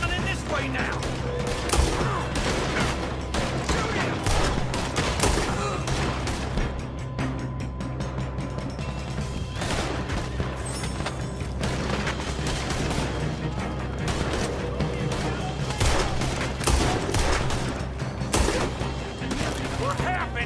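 A shootout in Red Dead Redemption 2 keeps up dense, sustained gunfire, with rapid overlapping shots and bursts and clicking gun mechanisms. Voices speak at times beneath the shots.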